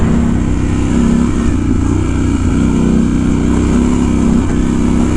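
A Triumph Scrambler 1200 XE motorcycle rides off-road over potholed dirt, its engine droning loud and close with slight rises and dips in revs as it rolls along, no talking heard.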